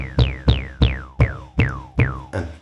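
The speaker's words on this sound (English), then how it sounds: "And you get this "tew-tew" sound that is typical of acid techno." Acid bassline from an Elektron Analog Rytm with filter envelope, seven punchy notes each opening into a descending 'tew' sweep, evenly spaced and loud, no voices.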